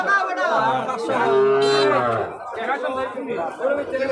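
Cows low loudly and close by amid a busy crowd at Raniganj cattle market in Jagannathpur, Sunamganj, Bangladesh, with overlapping voices chattering throughout.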